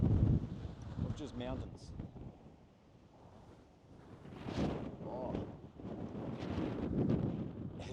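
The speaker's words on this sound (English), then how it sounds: "it is bloody windy" Strong wind gusting across a microphone high in the Victorian mountains, roaring and buffeting in low rumbling waves that swell and ease, with someone talking through it.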